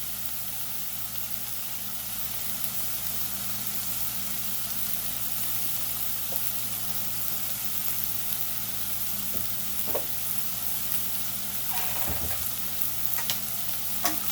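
Saltfish fries in a pan with a soft, continuous sizzle that stays fairly quiet and even, broken by a few faint clinks and stirring touches.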